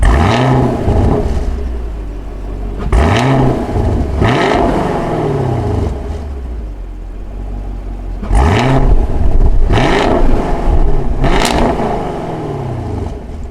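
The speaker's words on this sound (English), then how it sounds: "we also have the performance exhaust system added onto that, which sounds absolutely awesome." A 2020 Chevrolet Camaro SS with the performance exhaust system revs repeatedly, sharp throttle blips rising and falling in a rhythmic pattern over a deep idling rumble, loud and close with no talk.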